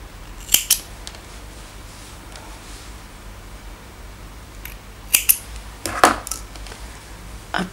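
Sharp scissors snip off leftover crochet yarn ends on a finished headband, a few crisp close cuts spread apart with quiet handling rustle between them.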